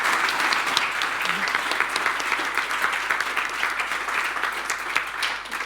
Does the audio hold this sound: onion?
no